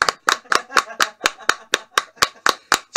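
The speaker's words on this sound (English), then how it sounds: "Everybody clap their hands." Hands clap in a steady, even rhythm, about a dozen sharp, close, loud claps in quick succession, keeping time during a Cha-Cha Slide line dance.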